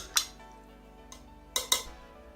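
A straw stirs a liquid in a glass, giving a few sharp clinks and taps, two close together near the end, faint against a quiet background.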